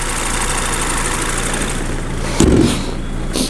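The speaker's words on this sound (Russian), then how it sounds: "Мотор шепчет" A Japanese-import car engine idles steadily and quietly up close at a car market, with a low, even rumble, briefly punctuated by a couple of clunks near the end.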